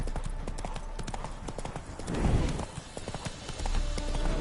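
Hooves of a horse clip-clop in a steady trotting rhythm in The Witcher 3: Wild Hunt, close and continuous, with faint background ambience.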